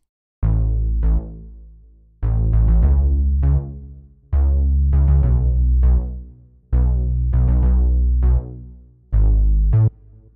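An ES1 sub bass layered with an Alchemy synth bass in Logic Pro X, an Afrobeats line of punchy plucked notes over a heavy sustained low end, repeating in regular phrases, loud and alone.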